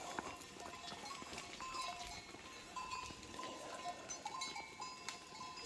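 Goats move through a field, giving faint rustling, scattered hoof steps and an occasional soft bleat, quiet and somewhat distant against outdoor background noise.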